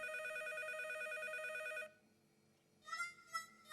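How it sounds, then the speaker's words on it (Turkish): A cartoon telephone rings with a bright, electronic two-tone trill for almost two seconds. It drops to near silence, then gives two shorter bursts of ringing. "Anne anne seni aradım ve telefon çaldı."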